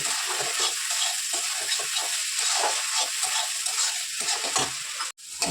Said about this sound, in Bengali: ভেজে রেখেছিলাম আলুগুলো দিয়ে দিচ্ছি। আলুগুলো দিয়ে নেড়ে নেব।